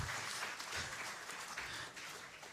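An audience at a quiz national final claps for a winner, a continuous wash of distant applause held at an even level throughout.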